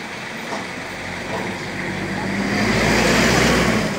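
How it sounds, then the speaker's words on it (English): A broken-down old car is being towed, giving off a steady road rumble and low engine drone that grows louder and fuller toward the end. "car broke down, now I got to tow it"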